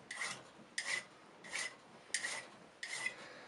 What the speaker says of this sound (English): always file away from you, and always try and follow the contour of the object that you're filing